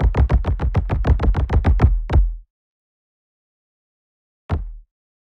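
A rapid run of about a dozen sharp tribal drum hits in quick succession, then a pause and a single final hit, loud and up close.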